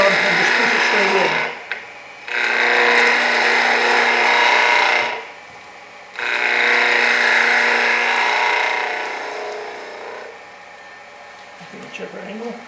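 A wood lathe tool cuts along the bottom edge of a turned wooden Christmas ornament, giving a steady scraping hiss in three long passes separated by short pauses, with the last pass fading out.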